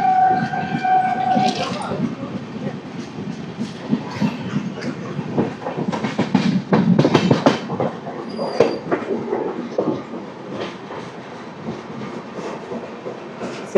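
The Samata Super Fast Express (12807, Visakhapatnam to Hazrat Nizamuddin) pulls out of Simhachalam, rolling loud and close with rhythmic clickety-clack of wheels over rail joints, occasional squeals and a rising rumble.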